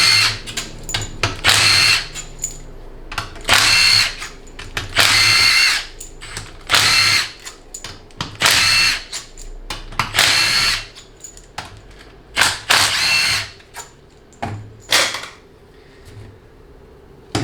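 A power drill or impact tool spins out the main valve body bolts of a 700R4 automatic transmission during teardown, in a dozen or more loud, close bursts of one to two seconds each, separated by short pauses.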